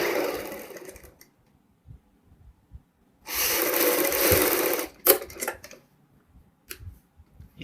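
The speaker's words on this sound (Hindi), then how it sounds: "पाइपिंग के साथ साथ हमने सिलाई लगानी है।" A sewing machine stitches piping onto a kurti. A brief whirring run is followed by a louder two-second burst of stitching, then scattered short clicks and taps.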